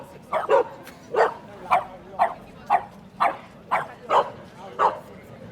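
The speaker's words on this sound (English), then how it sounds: "It's like a stereo barking match." Dogs bark in a steady back-and-forth series, about two barks a second, moderately close, with no talk between them.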